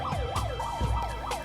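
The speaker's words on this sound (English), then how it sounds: "the ambulance also consists of a siren and a speaker" A boat ambulance on Srinagar's Dal Lake sounds its siren, a steady rising-and-falling electronic wail that repeats several times, loud and close, with no voices.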